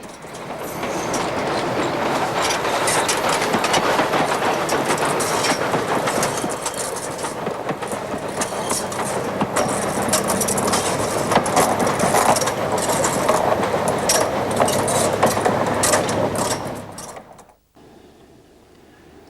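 A train runs on the Nene Valley Railway with a loud, steady rolling clatter and rhythmic clickety-clack of wheels for about seventeen seconds, then drops abruptly to near quiet.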